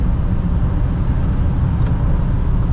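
An Audi A6 40 TDI front-wheel-drive diesel sedan driving on a snowy road gives a loud, steady low engine and road rumble heard from inside the cabin, with no voices.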